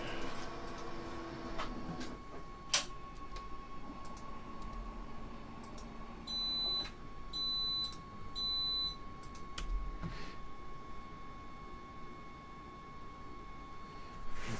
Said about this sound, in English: We need to hear that beep